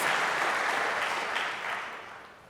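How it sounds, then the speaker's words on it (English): Audience applause for student athletes at a university state of the address event, a steady dense clapping from a large crowd that gradually fades toward the end. "Let's give our outstanding student athletes and athletics division a round of applause"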